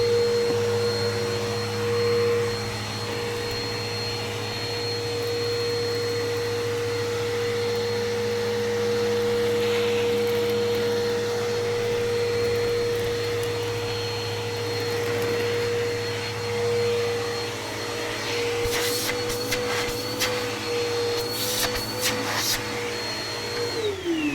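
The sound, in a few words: upright vacuum cleaner running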